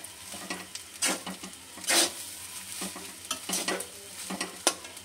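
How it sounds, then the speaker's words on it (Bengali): A spoon scrapes and stirs leftover rice in a hot pan, with intermittent scraping strokes over a soft background sizzle, close and fairly loud. "এবার নেড়ে নিচ্ছি ভালোভাবে"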